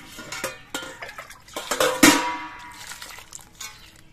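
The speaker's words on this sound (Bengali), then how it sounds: "পটলগুলো আমি ধুয়ে পরিষ্কার করে নিচ্ছি।" Ten pointed gourds (potol), cut into twenty halves, are washed in a bowl of water, making a run of light clinks and knocks that peaks in a sharper clatter midway and then settles.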